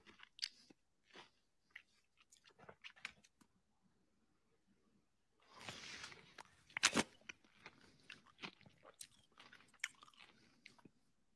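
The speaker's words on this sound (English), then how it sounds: "So first sound is chewing." Close, recorded chewing with crunchy bites and wet mastication clicks, sparse at first, then a denser, louder burst of crunching midway, heard alone.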